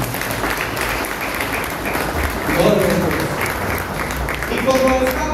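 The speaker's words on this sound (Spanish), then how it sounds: "¿Cuánto le da un fuerte aplauso al Señor?" Church congregation at a wedding service applauding, a continuous wash of clapping with murmuring voices and a few brief tonal sounds mixed in.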